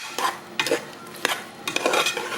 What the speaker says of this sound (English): What I've done next is added just a little touch of water just to actually start stir frying its own juices.